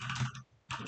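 Typing on a computer keyboard, used to program a VEX IQ robot: a short, close burst of key clicks that stops briefly, then resumes.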